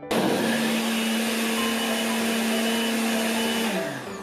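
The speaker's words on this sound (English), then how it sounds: "When it was full, I gave it a good blend," A loud, steady motor whir runs continuously for about four seconds, then winds down at the end, a blender spinning at high speed blending watermelon.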